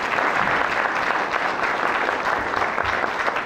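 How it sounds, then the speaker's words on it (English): A room full of people applauds at a district community meeting, dense, lively clapping that stays loud and continuous throughout. "we should have a round of applause for John"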